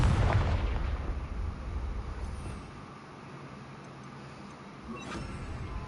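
Confringo fire spell exploding in the video game Hogwarts Legacy, a loud booming blast at the start that rumbles and fades, followed by a sharper crackling burst near the end.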